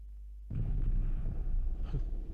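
A tank in the video game Little Big Adventure lets out a sudden loud, low boom after a brief quiet, followed by a heavy rumbling roar of the vehicle moving, with no voices.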